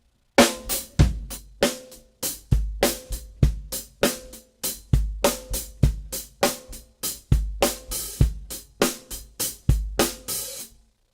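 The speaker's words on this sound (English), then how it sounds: "I tend to gravitate towards a throatier kind of snare rim shot" Repeated snare rim shots struck with a drumstick, a throaty, sharp crack with ringing body, played alone in a steady groove of roughly two to three hits per second, close and loud.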